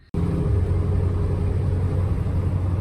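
A Ford F100 truck fitted with a Crown Victoria suspension swap, heard from inside while driving: a steady low engine rumble and road drone, continuous and fairly loud after a brief quiet start.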